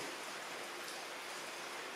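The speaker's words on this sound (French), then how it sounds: "je ne sais pas si vous entendez la pluie, mais il pleut chez moi aujourd'hui" Steady, soft hiss of rain falling continuously, faint and even throughout with no voices.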